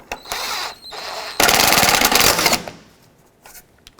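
A horn mounting bolt is tightened on a 2001-2007 Volvo V70. A short, close burst of buzzing, ratcheting mechanical whirr lasts about a second, following lighter rattles and fading into quiet clicks.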